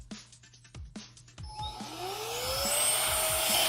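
A Meco Eleverde mini vacuum cleaner clicks and ticks as it is handled, then switches on and spins up into a loud, close, steady whirring whine that keeps rising in pitch.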